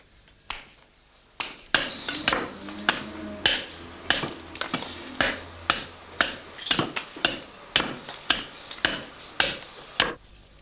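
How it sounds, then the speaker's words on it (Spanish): An axe strikes green wood on a wooden chopping block as a craftsman roughs out a log to shape wooden clogs, a steady series of sharp, close chopping blows about one per second with brief pauses between. "A golpe de hacha, sobre un picadero de madera, el artesano rebaja el tronco en un primer desbaste rápido."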